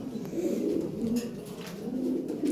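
White Lahori pigeons coo softly in repeated low, throaty calls, close by and fairly quiet, with no voices.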